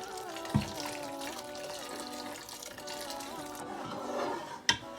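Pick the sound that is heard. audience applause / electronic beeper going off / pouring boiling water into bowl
pouring boiling water into bowl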